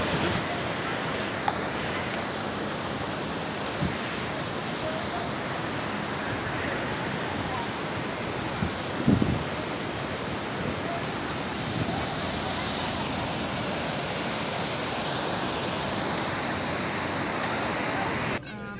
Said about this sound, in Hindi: ये वाटरफॉल हमें बहुत अच्छा लगा तो हम यहाँ रुके हैं थोड़ा सा मूवी वगैरह शूट करने के लिए